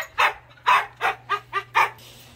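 Jindo dogs barking indoors, six sharp close barks in an uneven rhythm over a faint low hum, with no talking.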